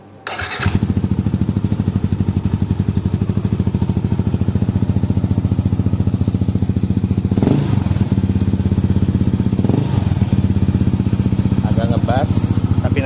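A Yamaha NMax scooter fitted with an aftermarket AHM exhaust starts and settles into a steady, deep idle, a loud close rumble with a rapid even pulse, with brief voices partway through.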